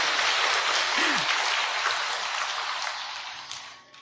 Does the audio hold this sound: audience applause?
yes